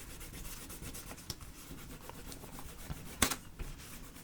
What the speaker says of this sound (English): So I'm just gonna go ahead and erase it and write it a lot neater.